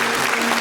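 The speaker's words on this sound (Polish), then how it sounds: "Proszę o wielkie brawa dla Maćka." A studio audience on a Polish quiz show breaks into loud, dense applause, a brief, full wash of clapping with no voices over it.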